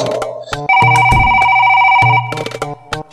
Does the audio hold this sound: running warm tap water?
no